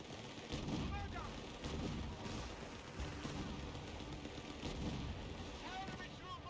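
Grenades burst against anti-tank gun positions in the Company of Heroes 3 Africa campaign, a steady din of gunfire and thudding explosions with repeated blasts across the whole stretch; no one talks.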